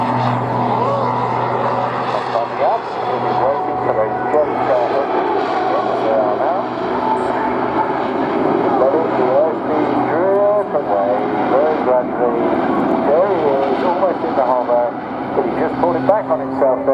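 Light aerobatic biplane engine droning and shifting pitch during an airshow display at Bournemouth, steady and moderately loud under continuous commentary.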